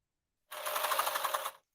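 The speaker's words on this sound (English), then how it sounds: "So I am now serging around the toe of the tights" A serger overlocking around the toe of a pair of tights gives one close, rapid, even burst of machine stitching lasting about a second, starting and stopping abruptly with no talking.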